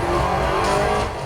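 A race car in a tilt-controlled Apple TV video game roars briefly at full volume with screeching tire squeal, close and continuous.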